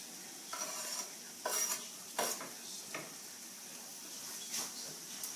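Green beans being tossed into a pan of shepherd's pie filling and stirred, with a faint steady sizzle under soft scraping and a few utensil clinks against the pan.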